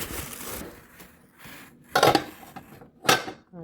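New pots and pans are handled during unboxing, giving clattering metal knocks and clinks, with two sharp louder clanks standing out near the end, close up and with no talk.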